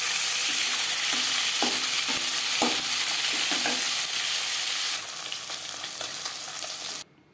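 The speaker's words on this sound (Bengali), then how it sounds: "পরের মাছ একইভাবে ভেজে নেব।" Pieces of fish fry in hot oil with a loud, dense, continuous sizzle close by, punctuated by a few soft knocks, before cutting off abruptly at the end.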